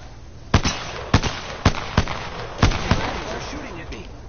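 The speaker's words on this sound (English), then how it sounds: "They're shooting at me." Gunfire aimed at the player in the Apex Legends video game: about seven sharp, loud shots in an uneven rhythm, close by, with a voice speaking between them.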